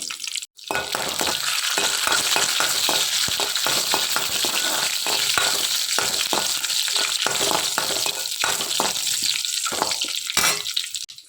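Shallots, curry leaves and a pinch of ground fenugreek fry in hot oil, giving a loud, steady sizzle broken by repeated stirring scrapes and clatters, near and with no one talking.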